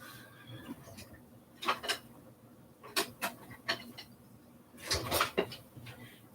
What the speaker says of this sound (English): I'm going to mix this all together.